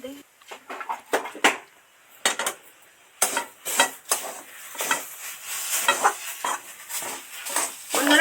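Masoor dal mixture stirred in a pan into a dough, with repeated scraping and clinking strokes of a utensil against the pan, close up, as a voice talks over much of it.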